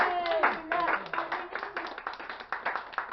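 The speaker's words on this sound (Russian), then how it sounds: "Похлопаем." Audience at a disability society gathering in Yakutsk clapping for jubilee honorees, a dense, steady round of hand claps in an indoor hall with some voices mixed underneath.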